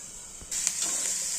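Vegetables lightly frying for veg fried rice, a steady close sizzle kicking in abruptly and holding with faint stirring clicks, no talk.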